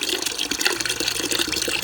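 Water runs steadily from a tap into a bucket on a farm, a continuous splashing stream heard close and alone for a couple of seconds.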